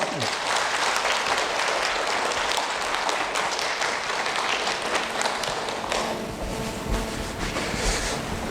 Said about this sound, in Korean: 강의를 진행해 주실 나유신 변호사님께 뜨거운 박수 부탁드립니다